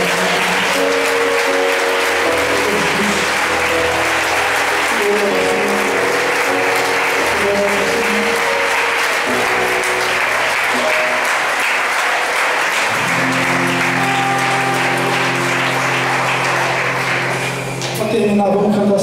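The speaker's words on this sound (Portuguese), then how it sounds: "Você pode aplaudir o nome do Senhor." A church congregation applauds steadily for a long stretch, with voices and a low musical tone mixed in beneath the clapping until it fades near the end.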